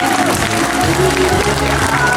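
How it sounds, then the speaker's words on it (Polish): Applause at a children's fashion show in a supermarket, loud crowd clapping blended with background music and voices in a busy indoor space. "Ja poproszę o duże brawa dla Wiktorii, o duże brawa dla Wiktorii."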